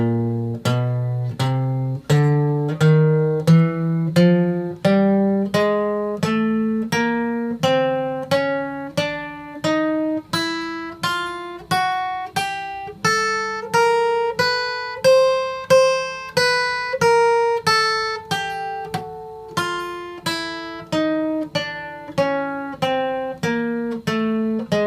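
Slow single guitar notes played with palm muting and alternate picking, each pick attack clear and evenly spaced in a steady line of plucked tones, close and alone.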